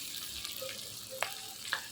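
Sliced onions frying in oil in a pan, a soft steady sizzle with a couple of brief clinks, quiet and without voices.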